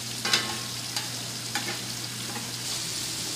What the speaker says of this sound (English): Now our last batch of chicken is in the frying pan.